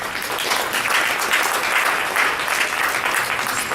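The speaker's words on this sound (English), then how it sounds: "can you have a round of applause" A crowd at an entrepreneurship event in Nigeria claps steadily and loudly, a dense, even wash of applause that holds throughout without pause.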